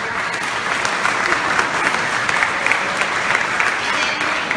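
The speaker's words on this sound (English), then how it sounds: "Give a round of applause for their work." Audience applause at an awards ceremony, a steady dense wash of clapping from a large crowd that holds even throughout, with no pauses.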